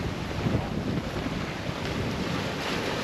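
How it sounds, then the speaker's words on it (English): Strong wind over 20 knots roars across the microphone aboard a sailboat running from St John to St Croix, a constant broadband rush with water noise beneath and no talking. "We are getting some true wind over 20 knots"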